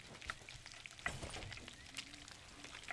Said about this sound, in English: You can tell the sound changes from just that sizzle to a more deeper sizzle.